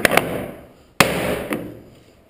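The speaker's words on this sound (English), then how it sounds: "we get the hammer and take this up a bit" A hammer taps a wooden block to loosen the tight joinery of a belle armoire being taken apart: several sharp, ringing knocks, two close together, then single blows about a second apart.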